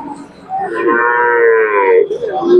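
A large Khillar cow at the Sangola cattle market gives one loud, drawn-out moo close by, rising and holding before tapering, with a second low call starting at the end.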